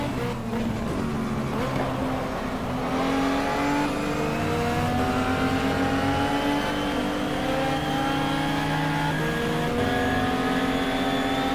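A Ferrari NGT-class race car closes in from behind during qualifying at Spa in GTR2, with a loud, continuous engine roar rising steadily in pitch as cars accelerate.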